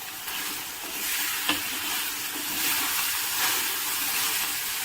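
Ground water chestnut flour with chopped green chilli and ginger roasting on low heat in a pan, giving a steady, close sizzle with faint stirring scrapes and one brief knock.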